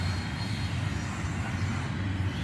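Intermodal freight train led by a Dash 8 locomotive, heard as a faint, steady low rumble with a rolling rail drone and no distinct horn or voices.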